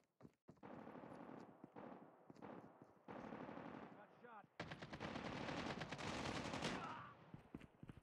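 Rapid machine-gun bursts from Call of Duty Mobile on the Tunisia map, loud and close, with sustained automatic fire building toward the end and brief pauses between volleys.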